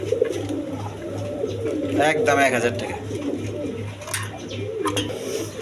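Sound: Rajgolla pigeons cooing

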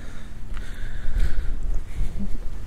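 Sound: wind blowing on microphone

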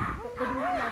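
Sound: dog barking

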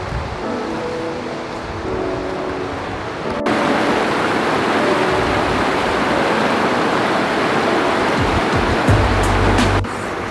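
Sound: running water of a river

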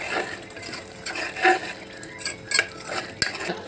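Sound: stirring mutton curry with chopped coriander and mint

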